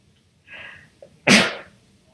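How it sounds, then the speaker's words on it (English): A single loud sneeze, preceded by a short sharp inhale, in an otherwise quiet room. "Oh, now I'm going to sneeze."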